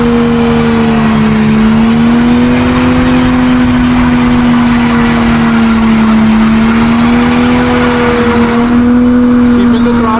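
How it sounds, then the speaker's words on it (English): Car engine held at high steady revs near the limiter during a tire burnout, a loud continuous roar with a slightly wavering pitch for the whole stretch, with faint tire noise and some voice underneath. "Keeping the throttle, we're not bouncing off the rev limiter."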